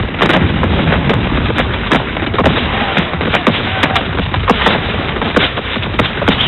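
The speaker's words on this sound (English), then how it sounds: "Smart firing all night on both sides." Revolutionary War battle reenactment around a fort, with a steady barrage of cannon and musket fire, sharp reports cracking repeatedly over a continuous loud rumble.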